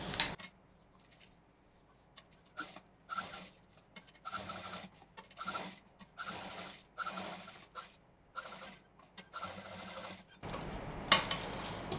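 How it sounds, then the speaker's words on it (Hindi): A sewing machine stitches fabric petals onto white cloth in short bursts of rapid close whirring, with quiet pauses between runs and a brief rustle at the end. "इस सफ़ेद वाले कपड़े पर रखते हुए इन सारे पेटल्स को सिल देना है।"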